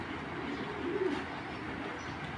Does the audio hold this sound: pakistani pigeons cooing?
yes